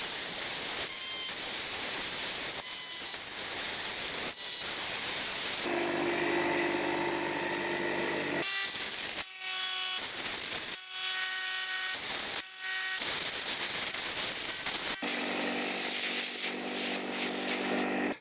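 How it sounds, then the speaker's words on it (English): A power drill bores a hole into concrete for anchors at an ICF house build site, grinding loudly and steadily in long bursts with short pauses. "The next thing is I have to drill a hole into the concrete to receive the"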